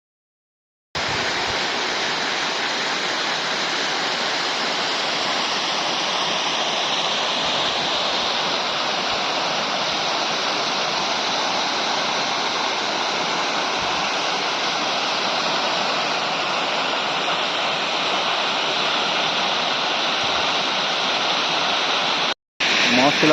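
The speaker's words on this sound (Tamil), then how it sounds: "மாசிலா அருவி, கொல்லிமலை." Masila waterfall in the Kolli Hills roars as a steady, loud rush of falling water, unbroken and close, with a brief cut near the end.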